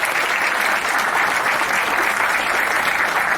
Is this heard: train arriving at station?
no